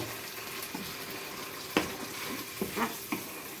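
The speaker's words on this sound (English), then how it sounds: "Give that a good stir." Meatballs stirred through jarred sauce in a pan, giving a low steady simmering sizzle with a few soft scraping knocks from the spoon near the end.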